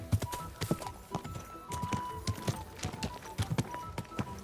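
Horse hooves clip-clopping in the medieval game Kingdom Come: Deliverance 2, a steady walking rhythm of close hoofbeats with faint crowd ambience and a brief voice under them.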